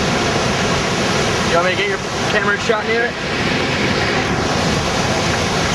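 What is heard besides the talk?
Niagara Falls waterfall roaring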